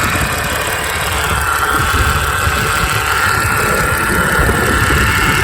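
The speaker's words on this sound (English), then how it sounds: "Sounds like power steering pump." A 2000s Mercedes R320 CDI diesel with a shredded serpentine belt idles up close with a steady, rough low rumble and a constant whine from the power steering pump, with no talking.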